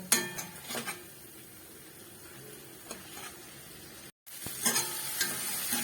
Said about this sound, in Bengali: দিয়ে আবার ভালো করে একটু কষিয়ে নেব